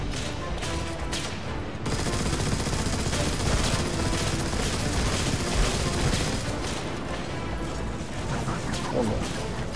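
Dense automatic gunfire rattles on continuously in the shooter game Destiny 2, with a loud, sustained fusillade of machine-gun bursts among other battle effects.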